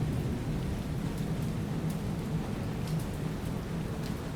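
Steady rain hiss from the naval combat game War on the Sea, a continuous even wash of falling drops with a faint low rumble beneath, no voices present.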